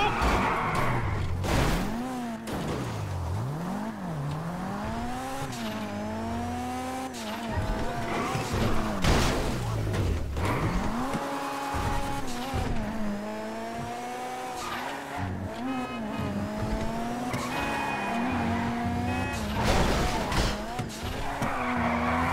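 An armored car drives in a video game, its engine revving and swooping in pitch with repeated tyre squeals and skids, loud and busy, with a voice talking over it at times.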